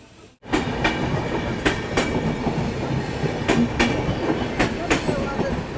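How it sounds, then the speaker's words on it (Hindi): Passenger train rolling steadily past at close range, with a continuous rumbling wash of wheels on rail and regular clicking joint beats recurring every second or so. "यहाँ सिर्फ एक ट्रेन नहीं जा रही है"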